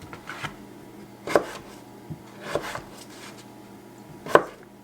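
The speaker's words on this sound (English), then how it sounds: "So I've got regular white potatoes and some golden potatoes, and we are just chopping these up." Regular white and golden potatoes being chopped on a cutting board, a few sharp knife thuds spaced irregularly with a louder final chop, close and without talking.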